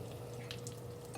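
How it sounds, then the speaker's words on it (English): Crushed almonds and a few other nuts sizzle in a pan with a tablespoon of fat, a steady close crackling fry with brief bursts of louder spatter over a low hum. "You can hear the sizzling sound."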